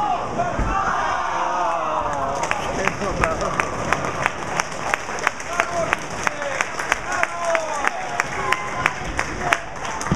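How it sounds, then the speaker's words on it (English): A big crowd at a golf tournament starts with a burst of cheering and noise. It then settles into steady, evenly spaced claps that carry on for several seconds. "Big round of applause from a big crowd."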